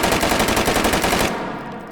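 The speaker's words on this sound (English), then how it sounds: "I've added an MX4 carbine, which is very, very similar to it, that actually can fire full auto" An MX4 carbine fires full auto in the VR shooter H3VR: a loud, rapid, even burst of gunshots lasting over a second, then cut off abruptly into a fading echo.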